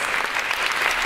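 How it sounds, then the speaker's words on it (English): Dense, steady clapping from a large concert audience for an orchestra's musicians, loud and continuous without pause. "A round of applause for our musicians from Thailand."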